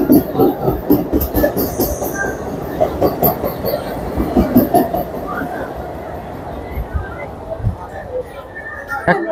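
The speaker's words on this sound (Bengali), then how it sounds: "আমাদের ট্রেন এখন বেরিয়ে যাচ্ছে হচ্ছে খড়দার উদ্দেশ্যে" A Sealdah–Ranaghat AC local train pulls out of the station, its rumble and rhythmic clatter of wheels steady and close, with people talking over it.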